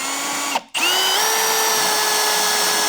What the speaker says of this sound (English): we're gonna put some of that soap onto our threads. It's gonna help lubricate our fastener.